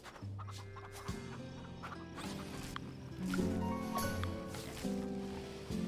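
Chickens clucking in a Farm Together 2 farmyard, a steady layered mix of soft clucks and fowl chatter with background game music tones throughout.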